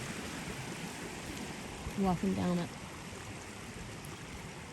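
Continuous rushing of a creek flowing steadily and fairly loud nearby, a broad wash of water noise that runs through the whole stretch while someone briefly speaks over it.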